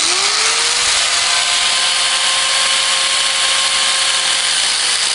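Power tool cutting clutch friction material for a Puch E50 moped, a loud continuous high whine that spins up at the start and holds steady and close throughout, with no talk.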